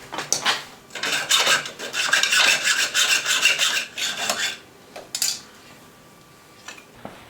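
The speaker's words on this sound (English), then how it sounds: "maybe a hacksaw is going to work better" A hacksaw rasping through metal on a stagecoach, in quick back-and-forth strokes for several seconds, then a pause and a few short final strokes, close up.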